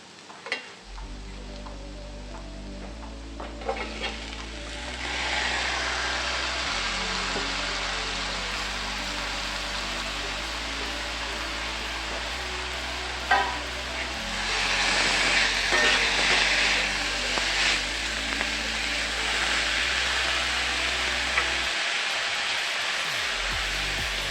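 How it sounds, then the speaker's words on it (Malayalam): Bitter gourd pieces added to onions already browning in a hot pan, a steady loud sizzle and hiss of frying that swells as the vegetables go in, with a few stirring scrapes, close and continuous. "ഇതിലേക്ക് ഇനി നമുക്ക് പാവയ്ക്ക ചേർത്ത് കൊടുക്കാം"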